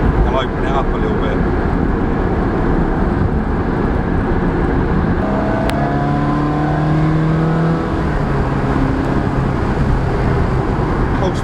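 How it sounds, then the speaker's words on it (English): A Ferrari accelerates on a road, a loud continuous engine roar heard from inside the car with rising pitch through the gears, while people talk over it. "Get a bit of heat in the tyres, pulling in."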